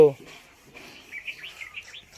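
Bulbul birds in a mango tree chirp several times in quick, fairly faint runs, while a brief voice is heard at the very start.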